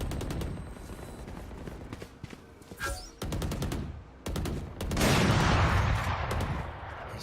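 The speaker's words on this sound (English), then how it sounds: "Placing swarm grenade." Gunfire bursts and an exploding swarm grenade in the VALORANT tactical shooter, with sharp repeated shots early on and a loud, sustained blast-like roar filling the last few seconds.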